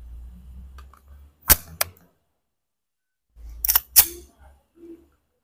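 A Sarsilmaz SAR9X pistol is test-fired outdoors: two sharp shots a fraction of a second apart, a pause, then another tight cluster of reports over low rumbling background noise.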